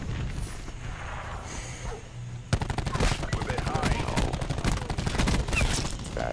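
Rapid automatic gunfire in the Call of Duty Nuketown map, a fast continuous burst of shots starting sharply midway, preceded by game noise and a voice talking underneath.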